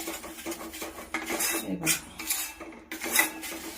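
Wheat flour roasting in ghee in a pan for atta halwa is stirred with a metal spoon, giving repeated close scraping and clinking strokes against the pan in an irregular rhythm, with no voices.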